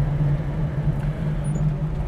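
A 1968 Chevrolet Chevelle rolls to a stop, leaving a steady low engine rumble and faint road noise, close and continuous with no talk.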